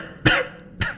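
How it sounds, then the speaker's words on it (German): A character in a German fantasy audio drama coughs: two sharp, close coughs about half a second apart, heard alone without talk. "Kodringer kämpfte einen neuerlichen Hustenanfall nieder"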